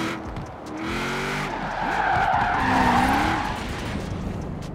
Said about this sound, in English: Drifting a drag car.